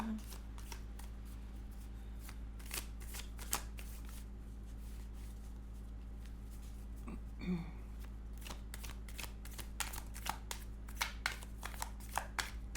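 Tarot cards being shuffled by hand during a reading, a rapid run of crisp riffling flicks and soft card slaps that continues steadily throughout, close and fairly clear above a low background hum.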